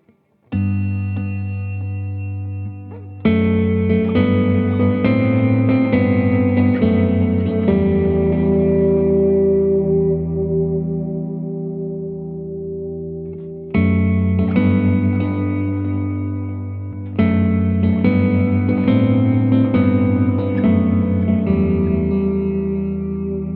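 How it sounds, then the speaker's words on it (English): An electric guitar through a Line 6 Helix clean patch with delay and reverb rings out in sustained chords and picked notes, each phrase trailing off into echoing decay across two played passages, with no voice. "the standard clean sound is kind of the same, exactly the same thing with the delay and the reverb in there"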